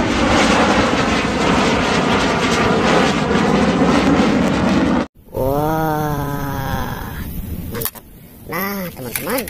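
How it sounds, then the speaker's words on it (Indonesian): A toy fighter jet gives a loud, steady whooshing engine roar, which cuts off abruptly and gives way to rising and falling electronic siren-like tones. "Pesawat tempur."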